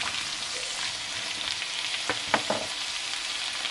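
Minced green beans, carrot and corn fry in a pan with a steady, bright sizzle, while a spoon stirs them with a few scraping knocks near the middle; no voices.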